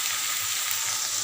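Black cumin seeds and dried chillies tempering in hot oil in a pan, a steady close hiss and crackle of sizzling that holds even throughout, with no voices.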